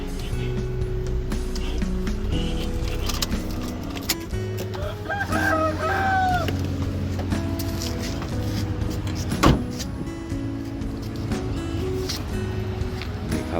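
Roosters crow several times in succession at moderate distance along a roadside stop at a fuel station, over a steady idling engine hum and light background noise.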